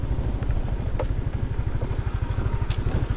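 A motorcycle engine runs close by with a fast, even low putter, joined by a few light clatters; no voices are heard.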